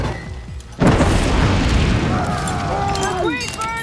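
Oil set on fire explodes in the Desperados 3 video game, a sudden loud boom followed by a rolling roar of flames, with game voices calling out over the burning.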